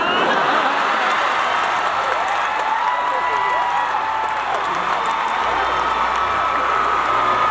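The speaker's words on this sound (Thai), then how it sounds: "ขอเสียงปรบมือดังๆอีกรอบหนึ่ง" A large audience at the Miss Grand Thailand 2025 beauty pageant final applauds and cheers, a loud continuous roar of clapping filling the hall, with voices and whoops rising through it.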